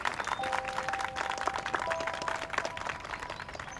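Steady applause from a group gathered at a casual social event, filling the whole moment at an even level with brief tonal background sounds threaded through.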